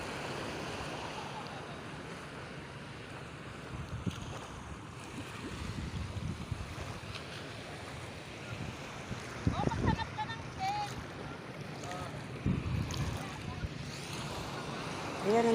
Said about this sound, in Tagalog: Tapos ayun na yung alon.